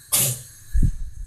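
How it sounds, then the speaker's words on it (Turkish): A single sharp, breathy sneeze bursts out close to the microphone, followed by a low thump and rumble. "Çok yaşa"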